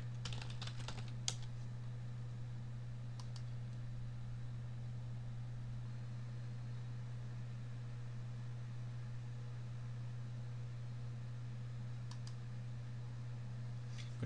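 Password typed on a computer keyboard, a few faint clicking keystrokes clustered near the start and again near the end over a quiet, steady low hum, with long stretches of near silence and no talking.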